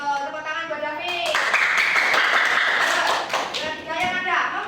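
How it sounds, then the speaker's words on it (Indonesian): A classroom of students breaks into lively applause, dense clapping that swells and holds for a few seconds, with a voice speaking before it and another talking as it fades. "Tepuk tangan buat David"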